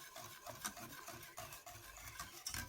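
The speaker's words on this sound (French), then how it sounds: "à l'aide d'un fouet, je viens fouetter pour éviter que ça ne fasse des grumeaux" Semolina whisked with a whisk in a pot over medium heat for semolina fufu: soft, rhythmic scraping strokes, faint and close, with no talking.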